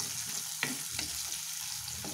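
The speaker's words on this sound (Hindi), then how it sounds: "हल्का सुनहरा होने तक इसे हम फ्राई करेंगे" Onions fry with asafoetida in a pan for spicy ivy gourd bhujia, a soft steady sizzle broken by a few light stirring knocks.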